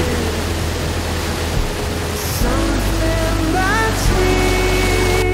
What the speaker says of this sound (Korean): The largest waterfall in the Faroe Islands.